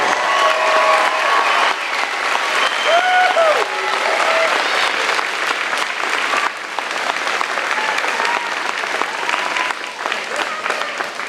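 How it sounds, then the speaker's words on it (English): A big round of applause from the audience at a high school honors ceremony for a group of students, sustained and loud throughout, with faint voices and cheers mixed into the crowd noise. "let's have a big round of applause for an outstanding group of students"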